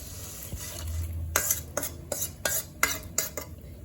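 A spoon stirs freshly fried tempering through a bowl of spicy puffed rice snack, a crisp rustling mix broken by about eight sharp scraping clinks against the bowl in an uneven rhythm, close and fairly quiet.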